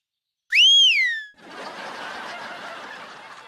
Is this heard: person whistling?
yes